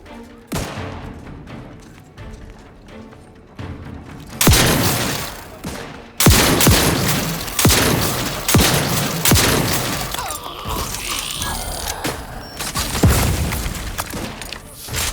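Gunfire rattles through a firefight in the video game Outer Worlds 2, with bursts of shots, heavy booms and shattering impacts in dense, loud clusters separated by brief lulls, and a voice speaking briefly among them.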